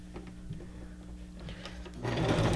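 A sewing machine stitches through junk journal paper. Steady mechanical hum and rattle sit under light handling noises, then grow louder and busier in the final half second as the stitching speeds up, close by.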